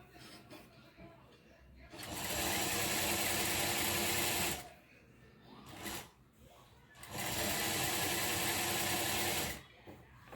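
A sewing machine stitches chudidar fabric together with its lining in two long, loud, steady runs of rapid whirring, separated by a brief pause and a few short handling noises.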